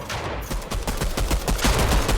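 Rapid automatic weapon fire in Fortnite, a steady rattle of closely spaced shots running loud and continuous throughout.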